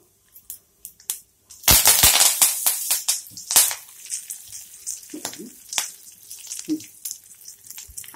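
Mustard seeds, dried red chillies and curry leaves hit hot oil in a pan with a sudden loud crackling burst, then settle into sputtering pops and sizzles that gradually thin out, close up and with no voices.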